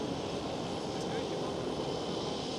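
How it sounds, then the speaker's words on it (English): KLM Boeing 787 passing at Schiphol, a brief, steady jet roar at moderate distance, even and unbroken, with no speech over it. "There goes the KLM 787, KLM Asia, without the Asia"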